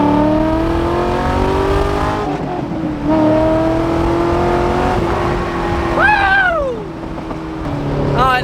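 Straight-piped Corvette engine revving hard and accelerating, a loud, close exhaust roar with rising and falling harmonic sweeps as it climbs through gears in traffic.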